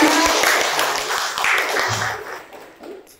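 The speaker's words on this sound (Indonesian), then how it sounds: "tepuk tangan dulu Kerin ya" Hands clap in a classroom, a fast burst of crisp, close claps that rings briefly and then fades out.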